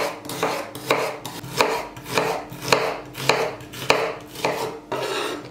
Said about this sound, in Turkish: Diğerlerinin hepsini küçük küçük küp küp doğrayacağım.